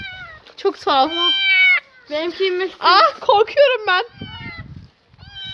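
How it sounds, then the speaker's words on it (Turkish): A cat stuck up a tree meows repeatedly with long, wavering cries, loud and close, while a person talks over and between the calls. "şurada bir kediyi görüyoruz ve bu kedi gerçekten bir ağaca çıkmış."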